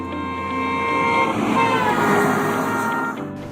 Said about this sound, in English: the second sound changes from high to low.